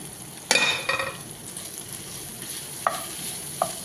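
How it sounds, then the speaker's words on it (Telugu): Prawns fry in a pan with a sharp burst of sizzle and spoon scraping, then a quieter sizzle under a few scattered clinks and stirs. "అలాగే రొయ్యలు కాడ చూడండి ఫ్రై అయిపోయినాయి"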